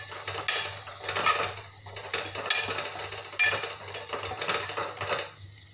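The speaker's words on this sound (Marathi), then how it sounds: "त्याला छान मस्त असं छान मसाल्यामध्ये छान खालवर करून परतून घ्यायचं" Boiled chickpeas being stir-fried in masala in a pan for chole, metal spatula scrapes and clinks in bursts over a soft sizzle.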